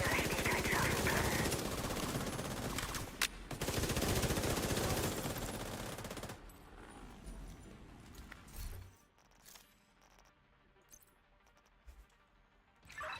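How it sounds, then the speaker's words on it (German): Rapid automatic gunfire in the video game The Division 2, a loud dense burst of shots for several seconds, then quieter scattered shots and clatter with occasional short bangs. "Waren das Schüsse?"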